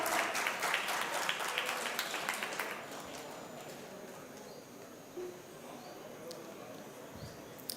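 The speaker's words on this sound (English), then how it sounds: "Let us welcome our esteemed guest with a warm round of applause." An audience at a national law seminar applauds to welcome a guest to the dais, a brief burst of scattered clapping at a distance that fades after a few seconds into quiet room noise.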